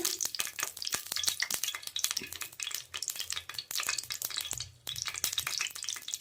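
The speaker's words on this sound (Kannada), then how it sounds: "ಮೊದಲಿಗೆ 100 ಗ್ರಾಂ ಎಣ್ಣೆ ಬಿಡ್ತಾ ಇದ್ದೀನಿ ಬಾಣಲಿಗೆ." Oil heating in a frying pan (baanali) for aloo fry, a close, steady crackle and sizzle with frequent sharp pops and spatters throughout, no voices.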